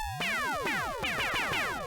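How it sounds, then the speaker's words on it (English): Synthstrom Deluge ring-modulated synth fires laser-gun zaps, a rapid series of sweeping, metallic pew-like bursts repeating about every quarter second, fairly quiet and alone. "So there we have a nice laser gun sound."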